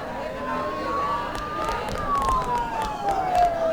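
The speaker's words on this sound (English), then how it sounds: "Don't those sirens sound really close?" A wailing police siren in the video game Persona 4 rises and falls in the distance over a busy background murmur, with faint voices mixed in.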